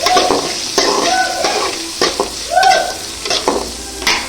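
Paneer cubes sauté in a hot pan, a crackling sizzle broken by repeated sharp scrapes and clacks of a spoon stirring against the metal, close and loud with no voices.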